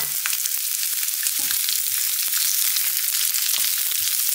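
Rabbit meat and whole peppercorns fry in a pan with a loud, constant sizzle, while irregular scrapes and clacks come from the utensil as it stirs.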